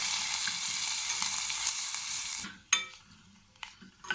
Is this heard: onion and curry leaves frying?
yes